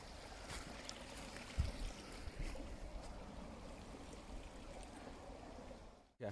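Water flows steadily through overgrown land near the ruins of Hollinshead Hall, a soft continuous trickling and rushing stream, faint and outdoors, with a few light knocks and no talk.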